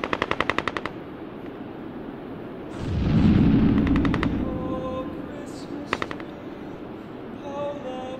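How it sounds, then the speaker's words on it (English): Rapid bursts of machine gun fire rattle out across a trench battlefield, then a deep rumbling bomb blast swells and fades, followed by more scattered automatic volleys in the distance. "The sounds of guns, bombs, and soldiers yelling for relief echoed through the countryside"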